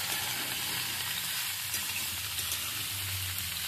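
Potatoes and mixed winter vegetables fry in a pan while being stirred, giving a steady, close, loud sizzle with a low bubbling rumble throughout and no talking.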